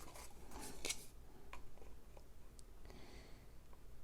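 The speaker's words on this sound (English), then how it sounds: "We're going to cut it to 5 inches in length." Scissors quietly snip through patterned craft paper cut to size for a handmade pet treat bag, giving a few soft, brief cutting sounds close by in a hushed room.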